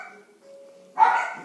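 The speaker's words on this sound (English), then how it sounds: "Shut up, dogs!" A dog gives a short sharp bark at the end after a near-quiet stretch with a faint tone, fairly close and loud.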